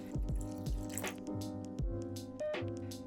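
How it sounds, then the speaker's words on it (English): Water splashes and drips into a cooking pot, measured out for a tangzhong flour paste, heard as close, uneven pours and plinks with bright ringing tones, fairly quiet with no voices. "125 milliliters of water in a pot."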